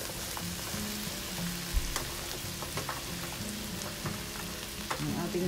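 Tough mustard green stems sautéing in a pan, a steady sizzle with light stirring taps and clinks, fairly close and moderately quiet.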